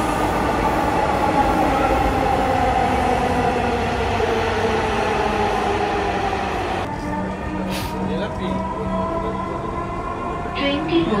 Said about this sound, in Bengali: এখন আমরা মেট্রো রেলের জন্য ওয়েট করতেছি